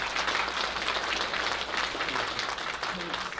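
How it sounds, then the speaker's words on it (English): An audience at a military anthems singalong applauds, a steady wash of clapping heard at moderate distance and fairly quiet, holding evenly for a few seconds. "One round of applause for them."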